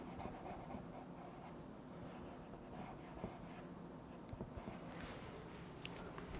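A fingertip rubs pastel across paper to blend colours, a faint, steady soft scrubbing that keeps going with small strokes and no talking.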